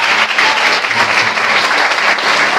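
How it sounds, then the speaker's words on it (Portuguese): A church congregation claps together in steady, dense applause that fills the room for a few seconds, with no voices standing out. "Palmas para o Senhor Jesus"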